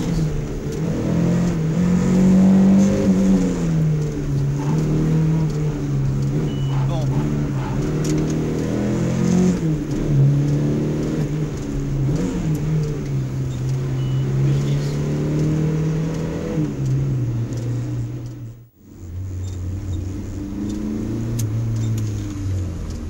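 A Porsche 911 rally car on a downhill special stage of the Monte Carlo Historique, engine loud and close with repeated revving and gear changes, briefly cutting out near the end before picking up again.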